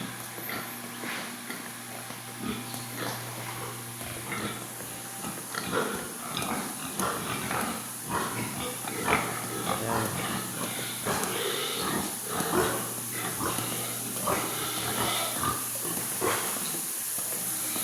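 Pigs grunt and snort inside a large farm building, irregular grunts coming near and far over a steady hiss and hum of the barn.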